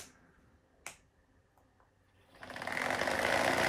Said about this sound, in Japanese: なんでハイパーボルトが調子悪いぞ。